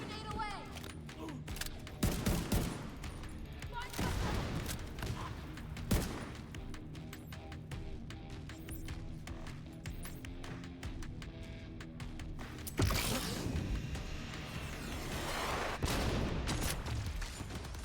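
Sustained gunfire and bursts from a firefight in The Division 2, a hardcore solo permadeath session, with loud sharp shots and heavier booms scattered through, over game music and a talking voice.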